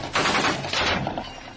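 Gunfire in a combat zone where Russian fire nearly hits a Ukrainian marine: two loud, close bursts of shots in quick succession, cracking sharply.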